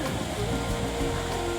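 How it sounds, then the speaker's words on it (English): The Elwha River runs near the Madison Creek pullout in Olympic National Park, a continuous broad rush of flowing water with a low rumble that stays steady throughout. "Here's the Elwha River."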